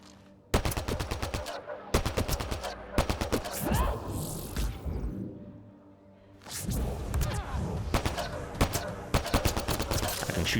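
Rapid bursts of automatic gunfire from the video game Mass Effect: Andromeda, loud and close, broken by a short lull before firing resumes. A voice talks over part of it.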